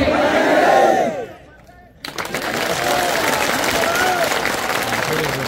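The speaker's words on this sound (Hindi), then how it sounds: "अभी तालियां तो बज रही है" Outdoor political rally crowd applauding and shouting, a loud roar of voices with a brief dip, then dense sustained clapping from a large audience.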